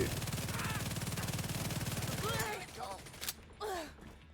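Rapid automatic gunfire in the shooter game Tom Clancy's The Division 2, a dense sustained burst for about two and a half seconds that cuts off abruptly, followed by scattered game sounds and brief voice-like calls.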